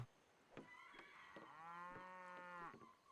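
A single low cow moo from cattle in the strategy game Civilization 5, rising and holding for about a second, set against soft background music with faint percussive hits, no speech.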